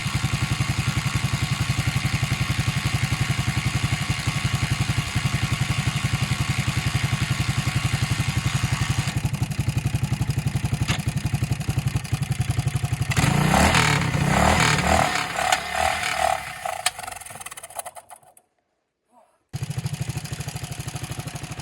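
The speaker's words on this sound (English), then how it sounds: "This bike's running." An old farm motorcycle engine runs loud and close at a steady putter, then revs with rattling clatter, cuts out briefly near the end and picks up again.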